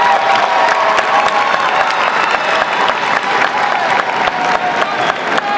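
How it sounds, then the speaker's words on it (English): A large audience at a college graduation and hooding ceremony gives sustained applause, dense, loud clapping filling the hall evenly from start to finish with a faint crowd murmur beneath. "join me in a round of applause for the Master of Science in Public Policy and Management"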